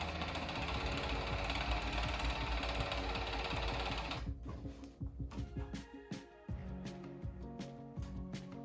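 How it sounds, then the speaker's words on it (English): A serger overlocks a seam on a jersey knit sleeve, a loud steady mechanical whir for about four seconds, then slower, uneven stitching bursts and clicks as the fabric is guided, close by with no talk. "start from the end and just serge all the way through, all the way down till you get to the end of the sleeve."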